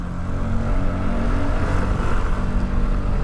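A Vespa Sprint 150 ABS scooter accelerates hard to overtake, its engine a steady, loud, close drone that holds strong throughout without any voices.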